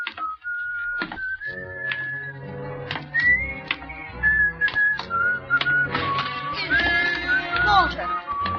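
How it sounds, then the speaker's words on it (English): A man whistles a wandering, sustained tune in an old radio drama, close and clear, with sharp knocks and clicks scattered throughout and no speech over it. "You still remember my whistle, eh?"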